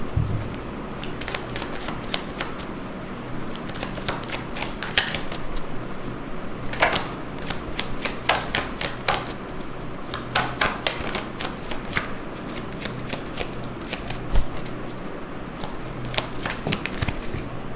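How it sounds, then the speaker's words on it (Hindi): Tarot cards are shuffled and drawn during a card reading, giving repeated crisp riffling bursts and soft flicks in an irregular rhythm. The sound is close and fairly loud throughout, with occasional quiet background sounds. "चलो टैरो कार्ड्स निकालते हैं"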